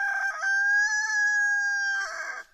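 Rooster crowing in a chicken enclosure: one loud, close, drawn-out cock-a-doodle-doo with a clucky start and a ragged trailing end, heard alone.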